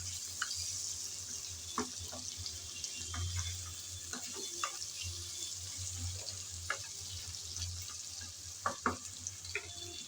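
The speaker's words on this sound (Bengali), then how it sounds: "মশলাগুলো সব দেওয়ার পর নেড়ে চেড়ে ভালোভাবে ভেজে নেব।" Spices and potatoes frying over a low flame, a faint steady sizzle with occasional soft clicks and scrapes of stirring scattered throughout, quiet and close.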